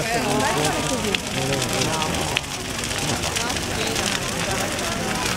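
The Fogheron, a large Epiphany-eve bonfire at Sagrado, burns with a steady roaring crackle and sharp pops, while people talk nearby over the blaze.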